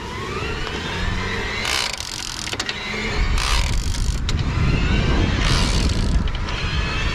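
An electric motor on a Gazelle Ultimate C380+ e-bike, run at its highest assist level, gives a steady mechanical whir that grows louder and fuller partway through, with whooshing and rattling swells along the way.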